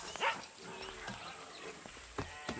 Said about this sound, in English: Get lost, dog!